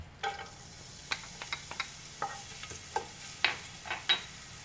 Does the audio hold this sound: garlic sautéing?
yes